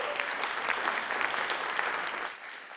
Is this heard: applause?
yes